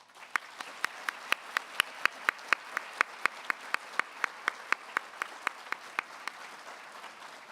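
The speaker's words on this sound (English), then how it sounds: "please join me once again in applauding all of our new Honor Society members." Audience applause at a National Honor Society spring induction ceremony for newly inducted members, a steady rhythm of sharp, distinct claps from a modest crowd in a hall, fairly even throughout with no talking.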